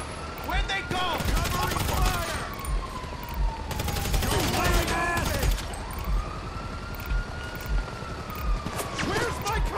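Bursts of automatic gunfire in GTA 5 Online rattle in clusters amid a wailing police siren that rises and falls, with chaotic action sounds and players talking over the mix.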